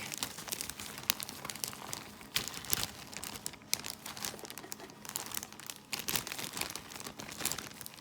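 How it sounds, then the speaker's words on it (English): Plastic crinkles and rustles in irregular bursts as cornbread is squeezed and crumbled inside a plastic bag, close and fairly quiet, with no voices. "I'm gonna just crumble the bread up in this bag."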